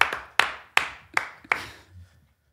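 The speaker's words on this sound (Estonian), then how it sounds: "Aplaus. Stuudiopublik." Sharp hand claps from a studio audience on a talk show, heard as five distinct, evenly spaced bursts that each ring and fade quickly, with no voices over them.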